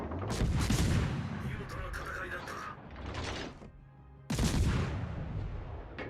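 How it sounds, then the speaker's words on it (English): Naval combat video game in which a destroyer fires volleys at battleships; loud bursts of gunfire crack and rumble in two clusters separated by a brief lull. "get a few shots into the battleships"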